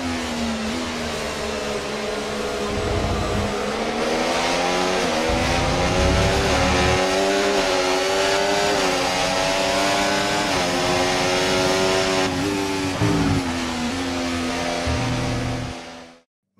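Formula 1 car engines in the racing game F1 24 whine at high pitch, a continuous loud drone with rising and falling revs and gear changes throughout, fading out abruptly at the end.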